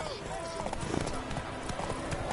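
Horse hooves clip-clopping in The Witcher 3, a quick rhythmic patter of hoofbeats running under a character's spoken lines throughout the short moment.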